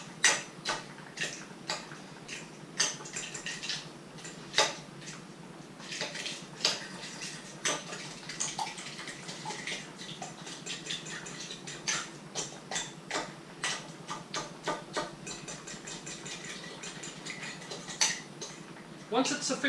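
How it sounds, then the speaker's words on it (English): A raw egg, shell and all, is whisked in a bowl, giving a rapid series of close clicking, tapping strikes against the bowl that rise and fall in bursts, with brief soft sounds between. "you crack it into a bowl, shell and all, and you scramble it"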